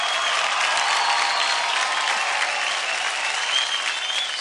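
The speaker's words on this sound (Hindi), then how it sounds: "जोरदार तालियां हो जाए इनके लिए।" A studio audience on a Zee TV dance competition show claps loudly for dancers, a dense unbroken wash of applause that holds steady throughout with no pauses.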